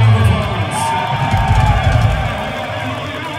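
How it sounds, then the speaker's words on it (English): A large concert crowd at a live metal show at Brooklyn Bowl in Nashville cheers and applauds, forming a loud, dense, continuous roar with whoops that carries steadily through the whole stretch. "Give yourselves a big round of applause."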